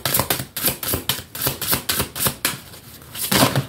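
Tarot oracle cards spill and tumble, a rapid run of a dozen or so crisp, close papery slaps and flicks in an irregular burst.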